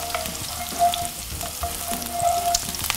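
Shrimp and minced garlic fry in a pan with a steady, close sizzle and occasional stirring clinks; no one speaks.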